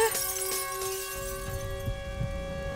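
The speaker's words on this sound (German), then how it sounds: "Die Gläser zerbrechen durch den schrillen Ton." Glasses shattering from Siren Head's shrill siren tone in a school video game setting, a steady high whining tone ringing over a crash of breaking glass at the start, with brief tinkling fragments after.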